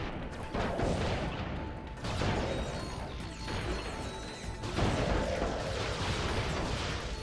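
Fusion rifle shots in the video game Ratchet: Deadlocked, three heavy booming blasts with crashing impacts and lingering rumble, loud and close, spaced a couple of seconds apart.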